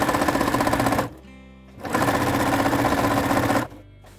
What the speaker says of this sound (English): now we are going to sew them together